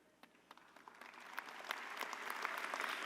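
Applause at a high school commencement as faculty, administrators and staff stand, beginning with a few scattered distant claps and building into a fuller, steady round of crowd clapping.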